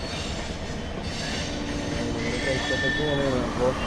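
Steady rumble of a train at a station, with squealing wheels rising near the end over murmuring voices and constant crowd noise.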